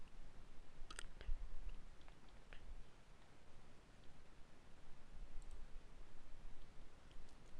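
A computer mouse gives a few faint, sharp clicks, spaced apart over a quiet hiss.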